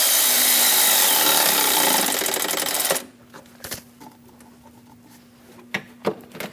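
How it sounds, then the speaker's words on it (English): A wrench works the bolt of a hose clamp on the engine oil cooler hose of a 2003-2025 Chevrolet Express 2500: about three seconds of dense, steady ratcheting and rubbing close by, then quiet broken by a few scattered clicks and taps. "Snug down the bolt for the clamp."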